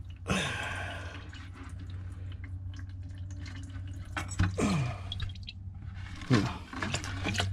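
Isopropyl alcohol dribbles from the drained fuel tank of a 1997 Ford F350 ex-U-Haul with a 7.5-litre 460 EFI engine. The liquid falls in a steady, close trickle with a few sharper drips over a constant low hum.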